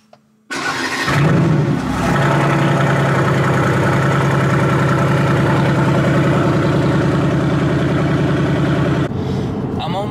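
A car engine with exhaust valves open cranks and fires into a loud cold start, surging briefly before settling into a steady, throaty high idle that runs for several seconds before cutting off.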